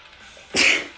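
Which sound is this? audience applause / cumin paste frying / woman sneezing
woman sneezing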